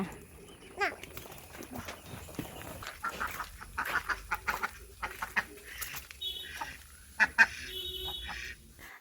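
Ducks being fed in a Kerala village yard, with scattered quacks and farm-bird calls close by over rustling and movement, plus a few louder calls near the end.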